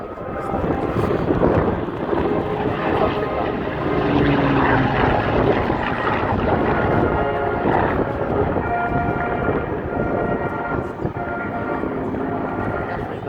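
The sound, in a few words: Hawker Hurricane propeller fighter plane flying at air show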